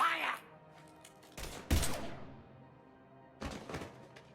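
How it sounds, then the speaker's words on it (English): Gunfire in the sci-fi shooter Mass Effect 3 comes in short, distant bursts of shots with thuds in between, faint against a quiet background, with a loud burst in the middle and another near the end. "Now open fire!"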